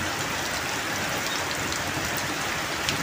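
Rain pours over open rice fields in a dense, steady hiss of countless drops, loud and unbroken throughout, with no one speaking.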